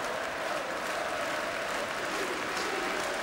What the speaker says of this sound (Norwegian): Så får også Odd velfortjent applaus her.